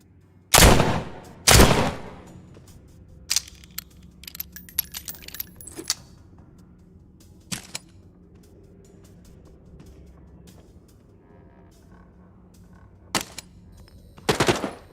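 Video game gunfire: a couple of loud, close shots up front, then scattered sharper cracks and small clicks over a quiet background, and a final burst of shots near the end; no voices.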